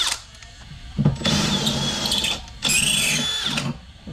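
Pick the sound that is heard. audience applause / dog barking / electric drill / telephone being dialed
electric drill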